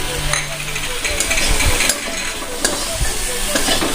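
Ground cumin, turmeric and Kashmiri red chili fry in a pan for a fish curry with potato and eggplant, a close sizzle broken by repeated scraping stirs and clinks of the spoon.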